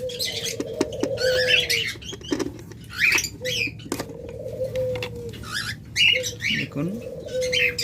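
Pet lovebirds in a breeding box, a pair sitting on four eggs, give repeated sharp chirps and short squeaky calls over a low steady hum, close by and fairly loud.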